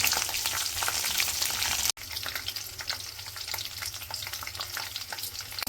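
Peanuts and chilies sizzle and fry in a hot pan, a steady crackling hiss broken by a brief clatter of stirring, continuous and close with no voices.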